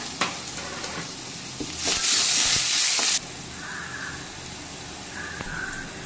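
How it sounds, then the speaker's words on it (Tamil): Ginger garlic paste is stirred into fried onions over a soft sizzle, with a few spatula knocks, a loud rushing hiss bursting up for about a second, then calmer frying with faint chirping in the background. "இது கூட இஞ்சி பூண்டு பேஸ்ட் ஆட் பண்ணி நல்லா கிளறி விட்டுக்கலாம்"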